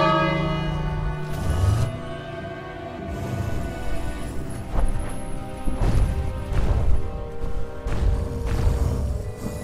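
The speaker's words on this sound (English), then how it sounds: "so I'll ring the bell" A bell in King's Quest: A Knight to Remember rings out in several loud, resonant strikes, each leaving a long sustained tone that overlaps the next.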